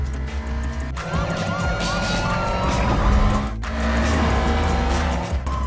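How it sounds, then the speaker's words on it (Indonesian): A local police car siren wails with rising and falling tones over loud car engine noise and tire sounds during a car chase. "muncul suara sirine polisi lokal dan aksi kejar-kejaran dimulai"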